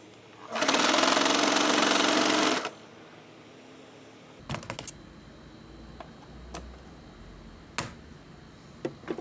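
A sewing machine stitches refrigerator handle covers in one loud, steady two-second run, then stops; afterward only faint handling clicks and light taps of fabric and parts follow.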